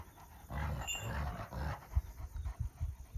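Kangal dog close by, heavy panting and short breathy grunts with low growly pulses, growing choppier toward the end.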